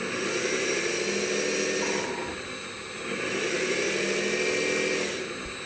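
A radio-controlled wheel loader's small engine revs in neutral, a steady high-pitched whine swelling and dipping twice as the throttle rises and falls, close and alone.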